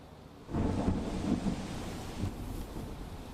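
Heavy, unbroken rain pours over Junagadh, a dense steady roar with deep rolling thunder swelling in after a moment and rumbling on under the downpour, with no voices.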